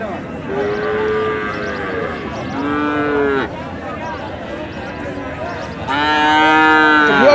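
Cattle at a livestock market in Dinajpur, Bangladesh, lowing in several long, loud moos, some overlapping, over a steady murmur of crowd noise with no clear talk.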